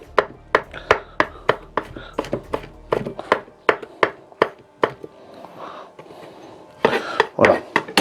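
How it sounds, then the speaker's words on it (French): Sharp, rhythmic knife strokes chop an ingredient roughly on a board, about two per second, close and loud, followed by softer crushing and scraping and a final burst of chopping, with no voice over them. "je vais juste l'écraser. Et le hacher grossièrement."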